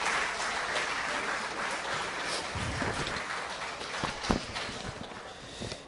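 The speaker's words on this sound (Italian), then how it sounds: "non possiamo che dedicargli un applauso" A room full of people clapping steadily at the Lucca Games 2013 award ceremony, dense and continuous, with a few sharper claps standing out near the end.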